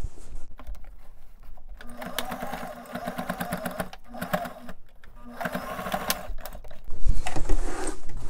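A sewing machine straight-stitching an elastic waistband on a garment, rapid rhythmic whirring in several runs with short stops between, close and steady.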